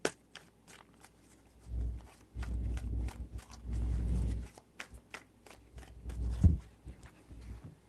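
Tarot cards are shuffled with soft, close riffles and rustles that come in a few low bursts, quiet and with no talking.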